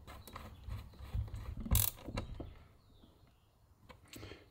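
A wrench ratchets and clicks as it tightens a battery cable lug on a 12V inverter. There are several short, faint metallic clicks and one sharper clank near the middle, and the rest is quiet.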